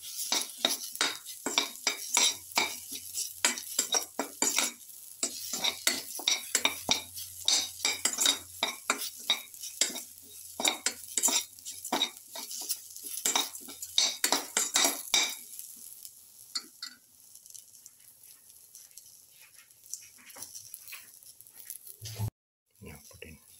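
A utensil stirs fish stew with tomato pieces and salt in a pot, giving rapid, close scraping and clinking strokes that fade into quieter sparse stirring, with a voice talking in places.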